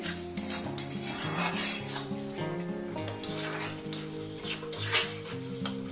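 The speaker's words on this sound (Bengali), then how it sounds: "এবারে এটা একটু কষে নেব মশলা আমার ভাজা হয়ে গেছে" Spice paste for egg curry is sautéed and stirred in a pan, with steady sizzling, scraping and metallic utensil clinks against the pan throughout, close and fairly loud, with no voices.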